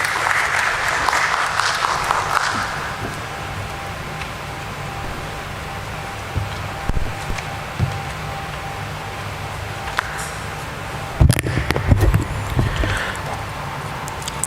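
A round of applause at a stock exchange listing ceremony for NMDC Steel Limited, a steady wash of clapping from the audience that fades, then a brief louder burst of handling noise and scattered claps near the end.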